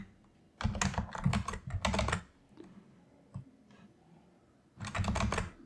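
Keystrokes clatter on a computer keyboard during a coding session, coming in two quick bursts of close, rapid typing, a lone tap, and a pause before a final short flurry.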